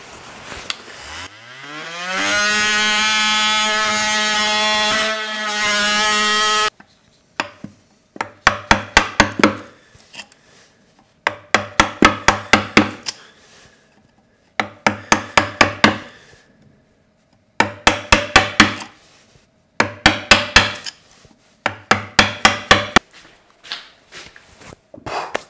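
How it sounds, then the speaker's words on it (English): Oscillating saw cutting around an ash tree ring, the motor whining up to a steady high buzz and then cutting in short, repeated bursts separated by pauses, close and fairly loud. "I'm just going to run the oscillating saw all the way around just to cut that line top and bottom"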